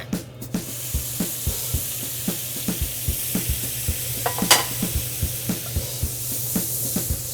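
Juices from a New York strip steak sizzle loudly in a hot pan, with a steady frying hiss and regular scraping knocks of stirring throughout, alone without speech.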